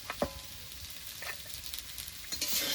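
Quiet sizzling in a pan as ground dried chilli paste and turmeric are stir-fried with elephant foot yam and potato, scraping stirs and occasional utensil clinks, a soft continuous fry throughout with no voices.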